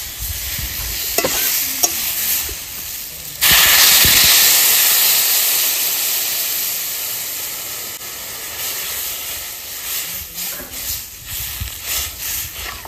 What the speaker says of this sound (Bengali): আমার কচু কষানো হয়ে গেছে, এবার জল দিয়ে দেবো।